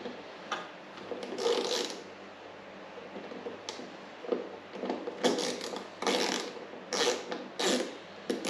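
A ratchet turning a 10 mm socket while a Fiat 500 is being reassembled gives quiet, irregular bursts of rapid clicking, separated by short pauses.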